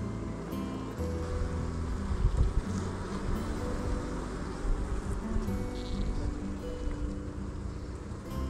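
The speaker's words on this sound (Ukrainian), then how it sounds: "як бджоло спокійне, значить єсть взяток" Honey bees hum steadily around an opened hive at an apiary during an inspection, a dense, continuous buzz close by with no talk.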